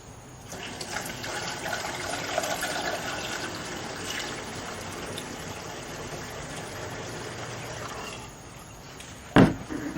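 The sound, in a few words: liquid being poured into a 1956 VW Beetle gas tank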